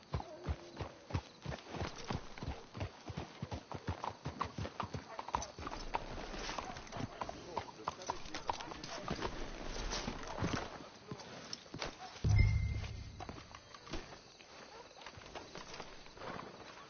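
Horses walk in Red Dead Redemption 2 with a steady run of clip-clopping hoofbeats at close range, quiet overall, alongside faint birdsong and a brief low thump near the end.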